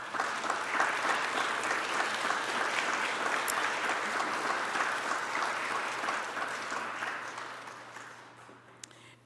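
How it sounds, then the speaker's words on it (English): Sustained applause from a church congregation at a Black History Month event, dense and steady for most of the stretch before gradually thinning and fading near the end. "all of you to stand up so they can give you a round of applause."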